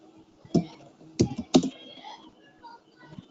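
Keystrokes on a computer keyboard at a terminal prompt come in a few sparse clusters of sharp clicks and taps, close and moderately loud in a quiet room.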